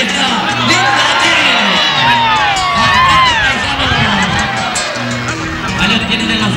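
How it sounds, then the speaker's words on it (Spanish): At the Fiesta Provincial del Toro Cebú, an outdoor gaucho festival and rodeo, a crowd cheers, whistles and whoops steadily under an announcer's voice. "¡Fuerte el aplauso también para la gente de los conquistadores!"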